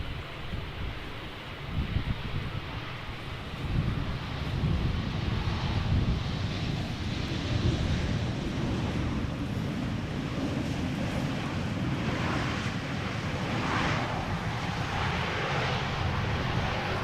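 An Embraer jet arrives at Amsterdam Schiphol on a gusty crosswind day, its steady engine roar broad and sustained beneath heavy wind buffeting on the microphone, with no voices.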